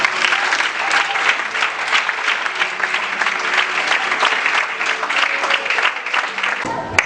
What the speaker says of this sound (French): On acclame Dieu pour ça.